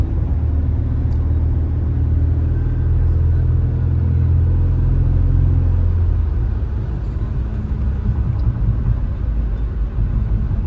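A car cruises along the highway from Sharjah toward Al Ain in the UAE, its engine and tyre rumble steady and close throughout, with no voices.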